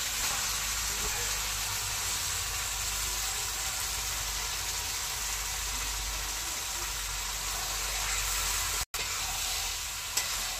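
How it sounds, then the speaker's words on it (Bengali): Chicken pieces sizzle in a hot pan during home cooking in an Indian village, a steady loud frying hiss that runs unbroken apart from one brief dropout near the end. "দেখো এবারে আমি চিকেনটা দিয়ে দিচ্ছি।"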